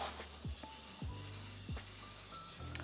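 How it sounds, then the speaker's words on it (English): Water sprays onto moss poles for houseplants: a steady, close, airy hiss of spray with a few soft low bumps, and no one speaking. "And this is how I water my moss poles."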